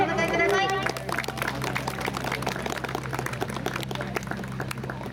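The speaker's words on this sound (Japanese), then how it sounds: "大きな拍手でお迎えください。" Crowd applause at a Shinano Grandserows baseball game, welcoming manager Yanagisawa after a win: dense, steady clapping runs throughout over a low hum, with a voice heard briefly at the start.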